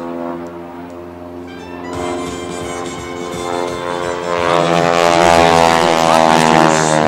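A Stearman biplane with a propeller engine flies at an air show, its engine drone steady and harmonic-rich, growing louder and closer over several seconds with no talking.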